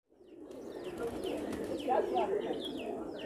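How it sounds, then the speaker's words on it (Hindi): Soft, throaty coos of blue Shahjahanpuri high-flyer pigeons rise and fall close by, layered with a few brief chirps against a quiet background. "ये होते हैं नीले शाहजहाँपुरी कबूतर।"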